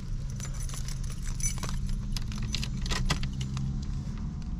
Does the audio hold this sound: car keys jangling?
yes